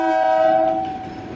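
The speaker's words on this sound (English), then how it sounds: "Here's the train near Ollantaytambo, taking early morning tourists to Machu Picchu." A tourist train near Ollantaytambo on the route to Machu Picchu sounds a loud, close horn blast that holds steady, then fades under rumbling rail noise.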